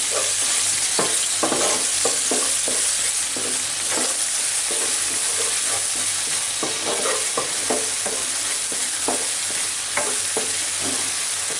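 Masala for a fish curry with lentil fritters being stirred in a pan on medium heat, a constant loud sizzle with repeated close scraping strokes of the spatula throughout.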